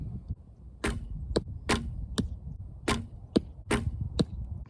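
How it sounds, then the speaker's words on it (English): Arrows strike an archery target in a sequence of about nine sharp, loud thuds at an irregular pace, each one close and distinct over a low background rumble. "The Cardinals hit the 10 ring with an arrow."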